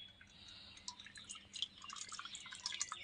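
Thick homemade singara chutney is poured from a cooking pot into another container, giving soft, close dripping and splattering sounds that grow a little busier toward the end, with no voices.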